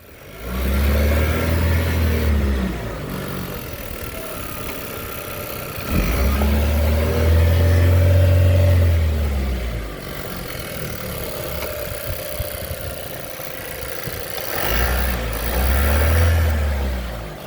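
A 2018 Chevrolet Equinox with a 1.5 engine, making an abnormal noise after going into a ditch, revs loud and close three times, each rise swelling and falling back to a rough idle.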